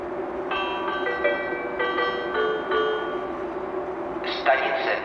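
A České dráhy EuroCity 111 from Praha rolls into platform 4 at Ostrava Svinov station, giving a low rail rumble with drawn-out squealing brake tones, while a station announcement voice plays over it.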